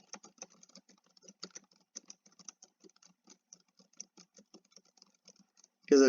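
Light, irregular keystrokes on a computer keyboard while text is typed into a Word document, soft and close-miked, with a louder sound cutting in at the very end.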